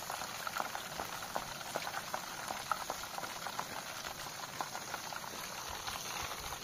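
Food sizzling while cooking, heard as a close, steady crackle with small pops and patter throughout, fairly quiet, with no talk.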